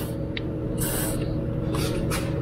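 Aerosol cans of Chassis Saver paint spray into the frame holes of a 4th-gen Toyota 4Runner, giving short close hissing bursts over a steady, noisy background.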